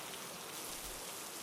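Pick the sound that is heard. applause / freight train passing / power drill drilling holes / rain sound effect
rain sound effect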